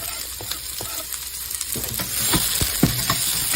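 Chopped onion and minced garlic sizzling in olive oil in a pot, a close crackling hiss with clinks and scrapes of stirring that grows louder after the first second, no voices.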